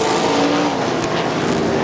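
Sprint cars racing on a dirt track at Crystal Motor Speedway roar past in a loud, continuous blur of engine noise, with the pitch sliding as the field goes by.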